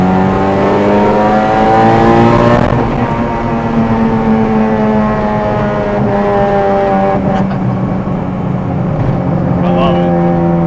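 A K24-swapped Honda Civic EK hatchback with a straight pipe exhaust drones loudly from inside the cabin. The engine pitch climbs through the revs, dips at a gear shift and climbs again, with people talking over it.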